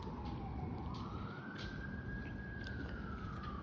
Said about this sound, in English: I think I hear an ambulance.